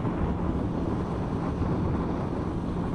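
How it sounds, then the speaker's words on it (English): Steady, close wind roar and buffeting over a rider's helmet while riding a Honda CBR650F motorcycle in a tucked position, constant and broadband throughout with no talking. "You can then hear the wind."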